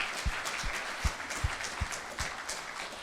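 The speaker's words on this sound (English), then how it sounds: "Loud round of applause, please." A conference audience at LendingCon 2021 gives steady, moderately distant applause, a dense wash of clapping with a regular low thumping beat running under it.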